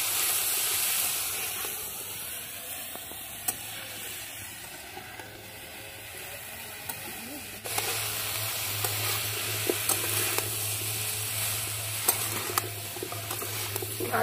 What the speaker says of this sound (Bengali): ভালো করে নেড়ে চেড়ে নিলাম